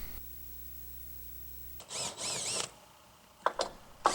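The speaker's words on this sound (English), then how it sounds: "So here I'm removing some of the screws from the first track" Cordless power drill backing screws out of a greenhouse track, two short whirring bursts after a quiet start, followed by a couple of brief clicks and a final spin-up; no talking.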